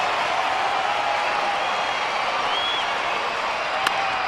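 Crowd of about 1,500 young kids cheering on Youth Day at a Padres baseball game, a steady high-pitched roar of voices and clapping from the stands, distant and even throughout.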